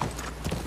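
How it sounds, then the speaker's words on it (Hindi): Horse hooves clip-clopping in The Last of Us Part 2, a quick run of close, distinct hoofbeats over a brief moment. "ये घोड़ा आएगा इसका, तो घोड़े पे सवारी करेगी ये"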